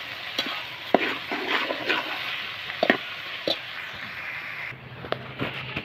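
Chicken being stirred and fried in a pan on a wood-fired stove, with soft scraping stirs and a steady sizzle, plus several sharp clinks of the utensil against the pan.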